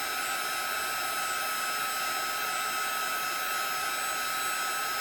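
A heat tool blows steadily and loudly for five seconds, melting embossing powder on a handmade card, a continuous even whoosh with no pauses or talk.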